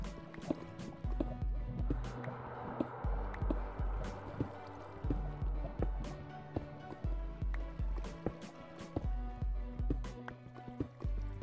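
Water flowing and dripping in the Minecraft video game, a steady liquid trickle with scattered drips and splashes alongside rhythmic low game sounds, at moderate level with no talk.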